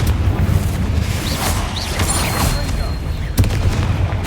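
A Confringo blasting spell explodes in the Hogwarts Legacy video game, a series of booming impacts and crackling bursts amid game sound effects and a voice shouting.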